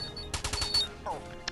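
Gunfire from the Stickman Gun video game, a quick burst of four or five rapid shots followed by a brief electronic zap and a final short pop, set against soft game background sound.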